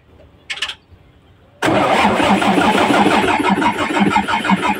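Mitsubishi 6M70 diesel engine with a hard-start problem cranking briefly, then catching and settling into a loud, close, rough idle with a steady rhythmic clatter.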